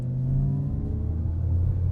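A Chinese electric car in Sport Plus mode accelerates with a synthetic exhaust note, a low, steady rumbling drone that swells slightly as it pulls, heard close from inside the cabin.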